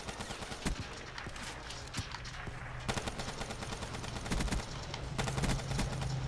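An automatic weapon in the video game Black Ops 3 fires a steady stream of rapid shots that build in intensity toward the end, heard without any talk.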